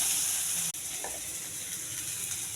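Cabbage sizzles and fries in a pan with tempering spices, chana dal and cumin seeds, a constant close hiss with a brief stirring scrape, no voices.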